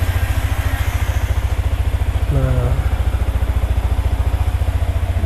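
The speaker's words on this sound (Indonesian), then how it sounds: "jadi motor nyala tanpa kunci kontak" A Yamaha Vixion motorcycle, started by a remote alarm system without the ignition key, idles with a loud, rapid, even engine pulse close by, while someone speaks briefly over it.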